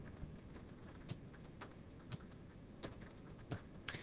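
Quiet, steady keyboard typing while a user name and email are entered: light, irregular key clicks with a few slightly louder taps over a soft background hiss, no voices.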